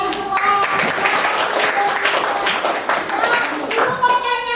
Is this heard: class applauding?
yes